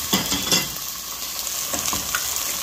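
Green broad beans frying in a spoonful of hot oil in a preheated pot, a close, continuous crackling sizzle with a few scraping stirs near the start and no talking.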